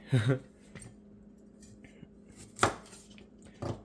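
A knife cuts dried scallops on a cutting board, a few sharp chops spaced apart with quiet gaps between, close and clear, with faint kitchen clatter.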